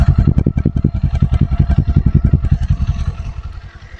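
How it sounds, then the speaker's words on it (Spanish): A Kawasaki Ninja 400 motorcycle fitted with a Leo Vince LV-10 slip-on exhaust idles nearby, a loud, deep, steady chugging pulse that softens slightly toward the end. "aquí es como suena el motor en ralenti"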